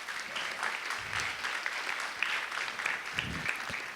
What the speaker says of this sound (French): On l'applaudit chaudement.